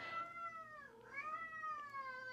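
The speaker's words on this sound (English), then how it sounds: "I don't know if you guys can hear my cat, but my cats just really want to bother me today." A house cat meows in one long drawn-out call that dips in pitch midway and then rises again. It sounds close and fairly clear over a quiet room, and no one speaks.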